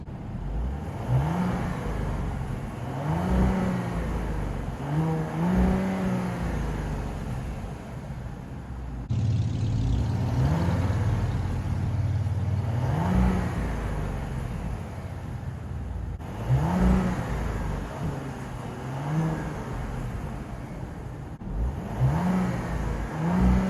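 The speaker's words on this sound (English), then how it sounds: "I'll be showing you guys a sound test of the exhaust." A 2023 Audi Q7 55 TFSI engine revs repeatedly in a steady pattern, each rise and fall of pitch followed by idle, with a deep exhaust drone throughout, moderately loud.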